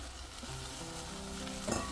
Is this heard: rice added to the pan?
yes